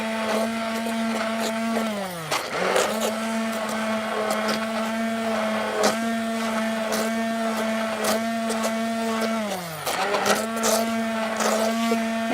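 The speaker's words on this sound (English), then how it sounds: "pulse your blender a little bit at a time to get this pureed" Butternut squash soup being pureed in a blender, a loud steady motor whine that drops and restarts in short pulses, with the blade pitch sagging as it bogs down and then revving back up.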